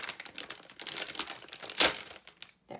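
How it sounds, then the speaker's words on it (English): Close crackling crinkle of a big roll of quarter-inch double-sided tape being handled, busy irregular rustles with a sharper crunch near the end before it stops. "I'll wait a second here with all the crinkly noise."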